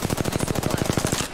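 Rapid automatic gunfire in a video game, a steady close burst of evenly spaced shots lasting just over a second, loud and continuous with no talk over it.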